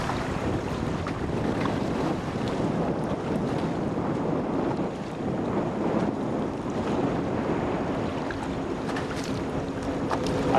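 Steady wind buffeting over open water around a fishing boat, a constant broadband rush with faint lapping waves and occasional boat creaks, no voices.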